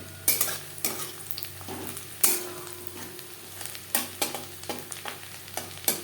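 Two medium chopped onions frying in a pan for a banana flower dish, a low steady sizzle broken by repeated sharp spatula scrapes and taps against the pan, close and clear with no talking.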